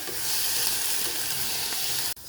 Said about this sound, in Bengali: চিংড়িটা ভাজা হয়ে গেছে